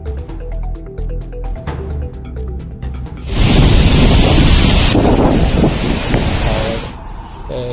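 Water pours through the opened floodgates of Maithon Dam in Jharkhand after two days of torrential rain. A short stretch of music gives way to a loud, continuous broadband roar of rushing water mixed with wind buffeting.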